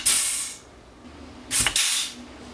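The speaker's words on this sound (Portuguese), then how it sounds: "quando eu aperto este botão, o cilindro avança. Quando eu aperto esse, o cilindro retorna." Two bursts of compressed air hiss from a push-button pneumatic cylinder valve, a loud broadband blast at the start and another pair of sharp bursts about a second later, with quiet between.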